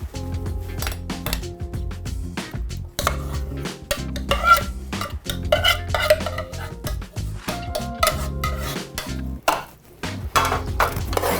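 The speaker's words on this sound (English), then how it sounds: "I'm ready to add the sauce to the pasta." Cheese sauce is mixed into drained macaroni in a pot, with repeated close clanks and scrapes of a utensil against metal in an irregular rhythm. A brief laugh is heard.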